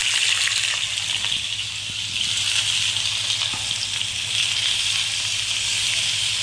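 Washed red pumpkin pieces dropped into a ladle of hot oil in a pan, giving a steady, loud sizzle and hiss that continues throughout.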